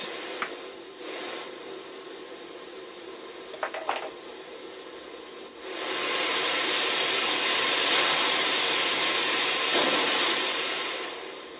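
A scratch-built Gauge 1 live steam locomotive blows off steam in a loud, steady hiss that starts abruptly midway and continues for several seconds, after quieter clicks and handling sounds.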